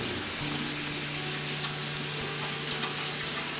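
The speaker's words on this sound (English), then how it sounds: "Alright, that's starting to sizzle" Chopped vegetables for a chicken pot pie sizzling and frying in a hot pan, a steady close crackle with a faint hum beneath and no talking.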